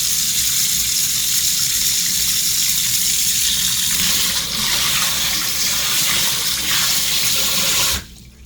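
A kitchen tap runs hard, rinsing dirt from bok choy out of the sink: a loud, continuous close-up gush of water lasting several seconds before stopping suddenly.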